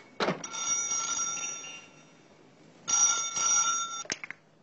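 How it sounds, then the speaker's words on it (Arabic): An old telephone bell rings in two long metallic bursts separated by a pause, fairly close and clear, with knocks and handling noises around it. "شوف التليفون يا ابراهيم"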